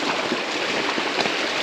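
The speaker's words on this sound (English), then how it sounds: "we are on the where the water is flowing down the trail" Water runs down a forest trail during a hurricane-soaked grouse hunt, a steady broadband rushing wash that fills the clip evenly with no clear breaks.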